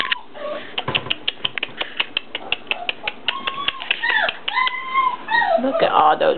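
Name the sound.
four-week-old Goldrush puppies whimpering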